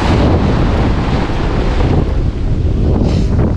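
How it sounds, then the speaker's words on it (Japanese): Strong typhoon wind at a surf beach, roaring microphone buffeting over a constant wash of crashing waves, loud and unbroken throughout. "風がやばい、風がやばいよ"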